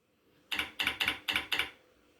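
A computer keyboard typed on in a short, even burst of about five close, crisp keystrokes, each with a soft double click, alone and fairly loud over a quiet room.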